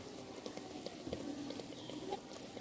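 A finished home-cooked dish with garam masala, just taken out of the oven, keeps bubbling with a steady soft simmering burble and faint pops, close and quiet with no talk.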